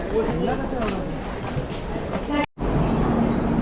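A train rumbles loudly and continuously at Borivali railway station, with a brief dropout partway, while people talk in the background.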